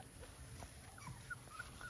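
A white male Naga dog puppy gives a few faint, brief whimpers and soft yips, quiet and close, over low background hiss.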